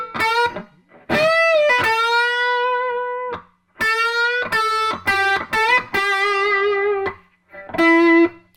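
A distorted electric guitar plays the closing verse lick, with sustained bent notes, quick pull-offs and short choppy phrases separated by brief pauses, loud and alone.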